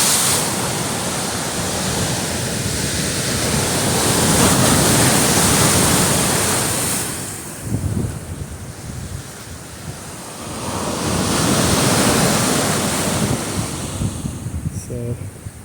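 Ocean waves breaking on the shore at Redondo Pier, a loud continuous roar of surf with wind buffeting the microphone, swelling and easing in two broad surges.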